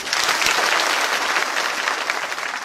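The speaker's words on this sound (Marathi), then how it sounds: "यासाठी सरकारला धन्यवाद द्या, जोरदार टाळ्या वाजवून." Loud, sustained audience applause at a political speech, a dense wash of many hands clapping steadily without pause, with no voices over it.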